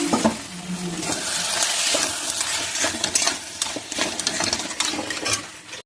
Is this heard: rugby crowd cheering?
no